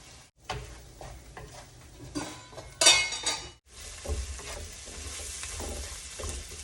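Chopped tomatoes sizzle and fry in a large pan for pav bhaji, with a spoon stirring and scraping against the metal and occasional clinks, loud and close throughout.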